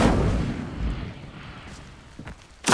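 Fiery burst of the Incendio spell in Hogwarts Legacy, a heavy low whoosh and boom that decays into a rumble, followed by a sharper burst at the end.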